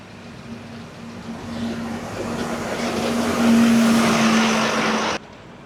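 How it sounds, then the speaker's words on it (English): Traffic on a busy road into Holmfirth, with a vehicle engine passing close by, rising in loudness to a peak and then cutting off, over steady road rumble. "This is like a really busy road in to Holmfirth. Have a look at the traffic."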